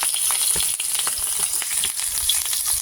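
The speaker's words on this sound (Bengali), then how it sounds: "বেঁচে যাওয়া তেলের মধ্যে আমি কাঁচা লঙ্কা আর কালো জিরে ফোড়ন দিয়ে দেব।" Green chillies and black cumin seeds crackle in hot oil left over from frying fish, a brief, close, busy sizzle with scattered pops and no speech.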